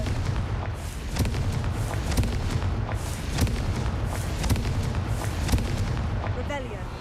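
Confringo fire spells go off in Hogwarts Legacy, a run of sharp booming blasts and crackles over a constant rumbling backdrop, with a voice talking over the bursts.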